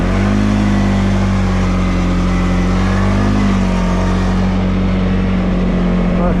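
A 2023 ATV engine, either a Segway Snarler AT5 L or a CFMoto X5 520 L, drones loudly and steadily while the quad drifts. The low-mid engine tone rises slightly once, with constant broadband noise and no speech.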